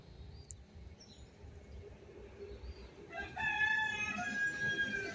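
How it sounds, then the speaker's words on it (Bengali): A rooster perched up on a vegetable plant crows once, a clear rising-and-falling call that starts about midway and carries to the end over quiet outdoor ambience, moderately near. "কেমন লাগাইছে মোরগটা গাছে উঠে?"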